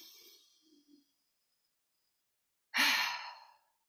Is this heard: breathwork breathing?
yes